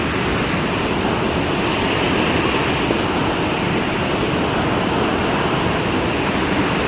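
Steady broadband rush of water flowing beneath a roadside bridge near Manjalpade, on the way to a hidden waterfall; continuous and fairly loud with no voices.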